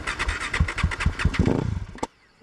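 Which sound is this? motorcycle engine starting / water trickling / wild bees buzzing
motorcycle engine starting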